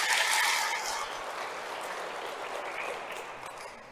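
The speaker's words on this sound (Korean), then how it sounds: "박수 한번 쳐주세요." A congregation at a Catholic Holy Spirit seminar applauds steadily for several seconds, a dense wash of clapping that starts loudest and slowly thins out.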